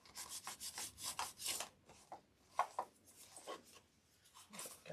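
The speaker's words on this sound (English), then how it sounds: "I'm actually rubbing some of it off right now" A cloth rubs stain off a Dollar Tree tile in quick, close, scratchy strokes that form an uneven rhythm of short bursts, quiet and with no voices.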